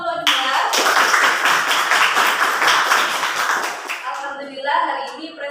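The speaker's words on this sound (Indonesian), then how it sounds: "Beri tepuk tangan yang meriah untuk kelompok 2." Sustained applause from a classroom audience after a group presentation, dense clapping that stays loud for about four seconds and then thins out into scattered claps and murmurs.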